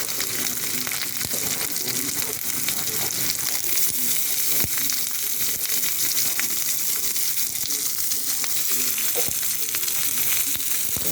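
Garlic and onion frying in a pan, a loud, dense sizzle and crackle that runs continuously and close up, with occasional stirring clicks.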